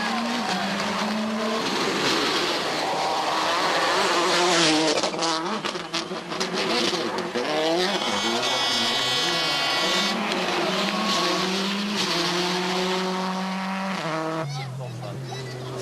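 Rally cars race at the Rallye Lyon-Charbonnières, engines revving hard and shifting pitch as they blast past one after another, loud and close, and a commentator talks over parts of it.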